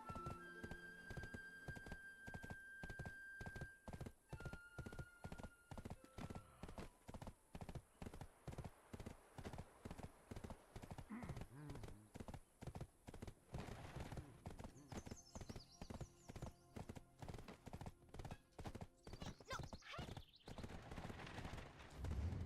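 Fast, rhythmic hoofbeats pound steadily throughout as a horse gallops in Black Desert Online, close and even, with occasional faint whinnies and game effects layered underneath.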